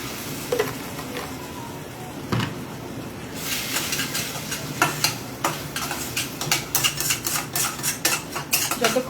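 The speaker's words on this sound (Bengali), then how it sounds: "যতক্ষণ না মশলা থেকে সম্পূর্ণরূপে কাঁচা গন্ধটা চলে যাচ্ছে, ততক্ষণ জলটা দিয়ে এটাকে বারে বারে বারে বারে কষাতে হবে।" A masala for chana dal, loosened with water, is stirred and fried in a pan over a very low flame: a steady sizzle runs under repeated scraping and clinking of a utensil against the pan, which grows busier and more rhythmic partway through.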